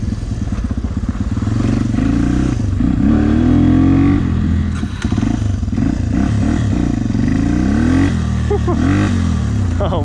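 A Yamaha TTR 250 dirt bike accelerates through repeated revs, its engine pitch climbing and dropping in rising sweeps, loud and close as if heard from the rider's position, with some wind rush.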